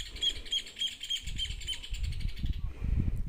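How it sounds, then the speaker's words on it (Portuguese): Birds chirp and sing in a bright, repeated pattern through a rural farm setting beside a house, steady and moderately close, with low rustling and handling noise underneath and a brief shift near the end. "Ainda vem os pássaros e faz uma cantoria linda dessa."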